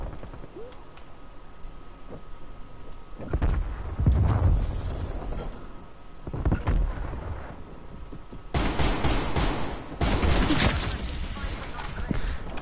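Rifle fire from a DMR and an XM4 in the shooter game Call of Duty: Cold War, with bursts of gunshots around four seconds and a denser, louder volley from about eight and a half to eleven seconds, alongside other game noise.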